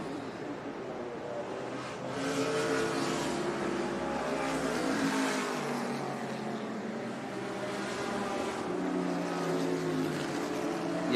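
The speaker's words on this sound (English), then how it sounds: "as we look at Chandler Briscoe in that BMW" Classic 1973 BMW race car lapping Laguna Seca during a vintage racing reunion, engine roar swelling and rising in pitch, then fading and building again, with broadcast commentary talk.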